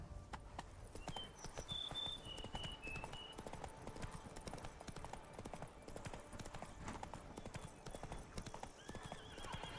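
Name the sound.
horse Roach galloping hooves, from video game The Witcher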